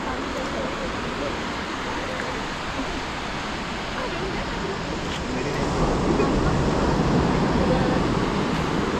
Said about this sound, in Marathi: मागे तुम्ही समुद्राचा आवाज ऐकत असाल.